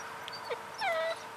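A dog whimpers close by: a short high whine, then a longer falling whimper, with no one talking.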